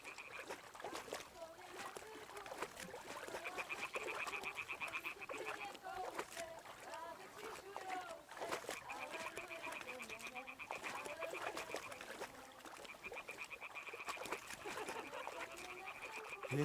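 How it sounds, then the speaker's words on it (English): Frogs croak in a steady, dense chorus across a marshy setting in Kingdom Come: Deliverance 2, with splashes of water and an occasional bird call blended in, all continuous and moderately loud. "Frogs. I heard the frogs."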